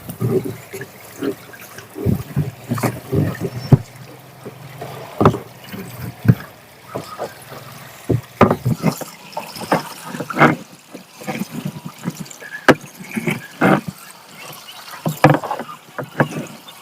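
Water and sludge flush out of a water tank's pipe in irregular splashing gushes and sloshes, loud and close, surging and easing throughout.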